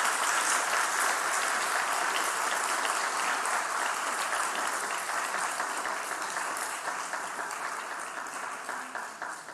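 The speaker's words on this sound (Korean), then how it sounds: "우리 박수로 환영하겠습니다" A church congregation claps in sustained applause to welcome newly ordained elders at a service, a dense, steady wash of hands filling the room that slowly tapers toward the end.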